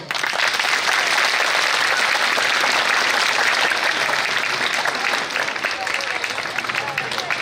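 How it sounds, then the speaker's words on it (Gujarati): Sustained applause from a large audience at a live talk, a dense continuous wash of clapping that holds steady at full strength throughout before easing slightly near the end. "પહેલા એના માટે તાળી થઈ જાય"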